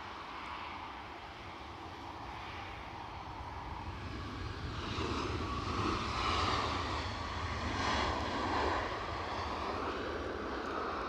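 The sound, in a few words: large jet airliner passing at Edinburgh Airport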